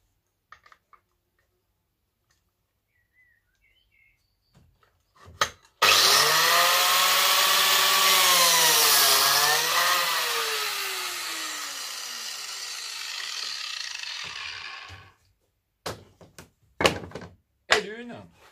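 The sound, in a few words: Lamello Triton joiner cutting into a wooden board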